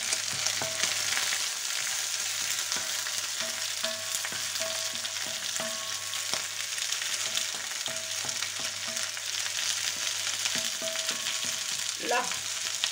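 Paella sizzles and crackles steadily in the pan, a dense close frying hiss that continues without pause, with occasional light clinks and a brief utensil scrape near the end.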